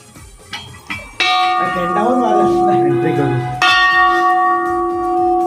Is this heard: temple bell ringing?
yes